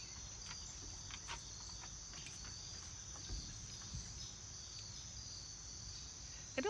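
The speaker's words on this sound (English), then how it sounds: "Lots of bugs." A dense, continuous chorus of insects chirping and trilling fills the quiet outdoor air, with a few faint bird calls scattered in the background.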